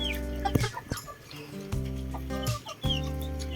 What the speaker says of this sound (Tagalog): So ito po yung aming mga manok na naninitlog.